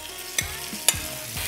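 Beef strips fry in a pan, with a steady sizzle under two sharp scrapes of stirring, no voices.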